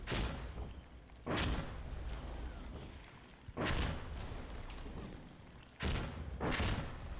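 Three heavy explosions in the video game Insurgency Sandstorm on Xbox Series S, each a sudden loud boom with a rolling tail, spaced a couple of seconds apart over steady background rumble.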